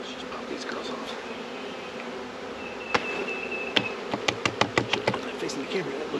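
Honeybees buzz continuously as they are knocked off frames during a hive inspection at a vineyard out yard, with a dense close drone and a run of sharp taps and knocks toward the end.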